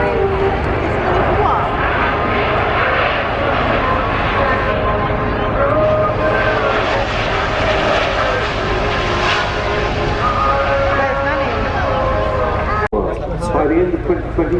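A Spartan military transport aircraft makes a steep descent at an air show, its propeller engines droning loudly and continuously with shifting tones, while a commentator talks over the noise.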